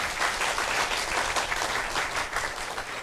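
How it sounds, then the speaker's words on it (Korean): An audience at a university entrance ceremony applauds to welcome the university president, with a dense, even burst of clapping filling the hall. "큰 박수로 맞이해 주시기 바랍니다"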